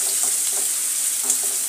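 A large onion sautéing in a pan for wangyache bharit, a steady, hissing sizzle with faint stirring touches, close and continuous for a brief moment.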